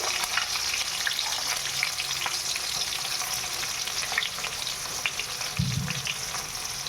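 Two chopped onions fry on a low flame in a pan, giving a steady dense sizzle and crackle up close, with one brief low thump or rush of liquid near the end and no one speaking.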